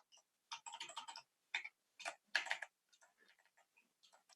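A computer keyboard is typed on in short bursts of rapid clicking keystrokes separated by pauses, close and fairly soft, with no voices.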